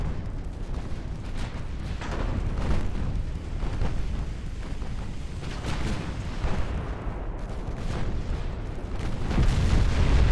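A warship taking a shell hit and catching fire in Ultimate Admiral Dreadnoughts, a dense rumbling barrage of booms and gunfire with crackling bursts, steady and loud throughout without speech.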